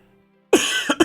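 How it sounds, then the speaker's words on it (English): After a quiet hum, a person gives a sharp cough followed by two quicker coughs, all close and loud with no talking. "Pardon me for coughing"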